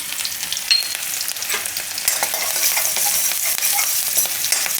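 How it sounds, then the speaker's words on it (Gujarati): Garlic, green chillies and asafoetida crackle and sizzle steadily in hot oil in a pan, a loud, continuous frying hiss with no voices. "તેલમાં આપણે આ લસણ નાખી દઈએ, અને મરચાં નાખી દઈએ"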